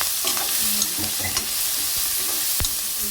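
A few chillies frying in hot oil, a close, even sizzle with scattered stirring scrapes and a sharp knock near the end, without voices.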